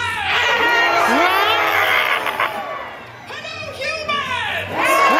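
An audience at Disney's Magic Kingdom, including many children, shouts a greeting together in loud rising bursts, with a pause before a second wave of cheering voices.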